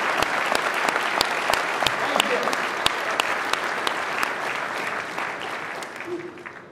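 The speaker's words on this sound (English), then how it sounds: "Let's hear a big round of applause for Chris." A large keynote audience at the HP Reinvent 2017 conference breaks into sustained applause, steady and dense throughout with sharp individual claps standing out, slowly thinning toward the end.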